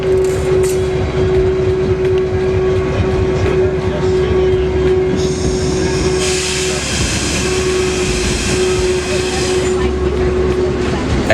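A train rides along a museum railroad in the Southeast, a loud rumbling roll with rhythmic clacking and a sustained whistle-like tone, joined by a hissing burst of steam partway through.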